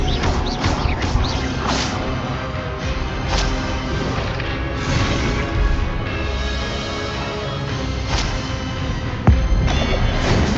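Hogwarts Legacy combat with the Expelliarmus spell being cast, loud whip-like cracks and whooshes with heavy impacts and booms scattered over a dense, continuous game soundscape.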